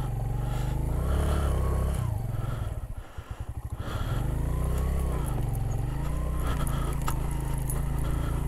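A motorbike engine revs hard at high RPM on a steep, rocky mountain track, with a loud, close, continuous roar that rises and falls. It briefly chops and stutters midway, with gravel scraping under the wheels.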